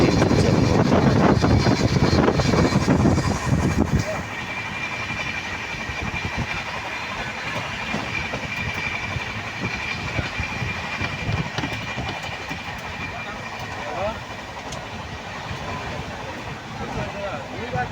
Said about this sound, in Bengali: 130 স্পিড ট্রেন চলছে এখন বর্তমানে।